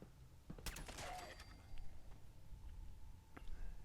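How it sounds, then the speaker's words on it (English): Gunshots fired in first person in Fallout 4 inside tunnels, a few quick faint cracks in a short cluster followed by a lone later shot, with a low murmur of game ambience beneath. "I can actually shoot in first person without VATS."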